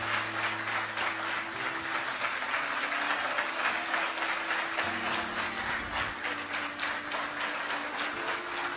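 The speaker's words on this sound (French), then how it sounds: "je ne peux que vous demander d'applaudir Monsieur le Président pour prôner nos valeurs" Sustained crowd applause for the president at a political gathering, dense and even throughout with a low hum underneath and no talking.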